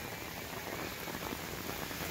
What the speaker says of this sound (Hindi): बहुत तेज झमाझम बारिश हो रही है।